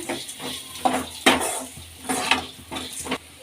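Coriander and cumin seeds frying in a pan for a sweet mango gojju, with soft sizzling under repeated scraping and stirring strokes of a spatula against the metal, several sharp clinks standing out close by.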